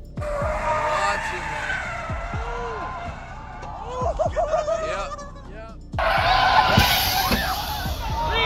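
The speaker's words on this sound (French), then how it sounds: "Une voiture roulant à vive allure en percute une autre par l'arrière, l'avant entrant en collision avec l'arrière de l'autre voiture." A speeding supercar skids and slams into the rear of another car, with repeated sharp tire squeals and engine noise building to a loud crash near the end. A voice speaks over the sounds.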